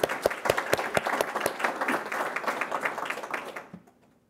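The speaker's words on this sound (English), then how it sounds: "Can we give our site councils a round of applause?" Applause for school site councils at a board of education meeting, a burst of scattered claps building into steady clapping from a modest audience, then tapering off and stopping near the end.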